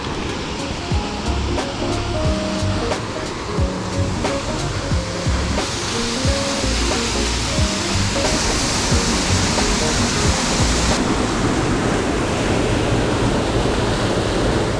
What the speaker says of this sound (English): with a waterfall this loud, you can't really hear anything that I'm saying while I'm close to it